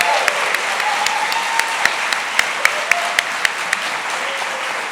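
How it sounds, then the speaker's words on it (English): A gala audience claps steadily, with scattered louder individual claps standing out over the continuous patter. "ask everyone to give them a great round of applause"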